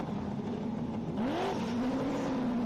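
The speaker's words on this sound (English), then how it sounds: "The revs are building, the exhausts are crackling." Race car engines rev at a motor racing championship circuit in Sydney, a sustained engine drone heard from a moderate distance with one clear rising rev sweep partway through.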